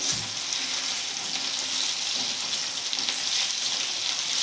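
Boiled potato pieces and onions being mixed in a frying pan for batata poha, heard as a steady dense sizzle with faint stirring textures throughout, close and without speech.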